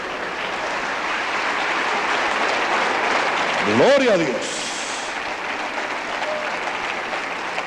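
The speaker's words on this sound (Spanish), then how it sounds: "Denle un aplauso al Señor, pues." A church congregation applauds at length, a broad, steady wash of many hands clapping that fills the room, while a voice briefly speaks over it partway through.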